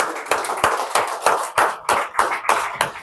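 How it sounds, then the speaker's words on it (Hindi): An audience claps to welcome a speaker onto the stage at a leadership development program, with sharp, distinct hand claps in an irregular, fairly sparse rhythm, close and moderately loud. "एक बार जोरदार तालियां।"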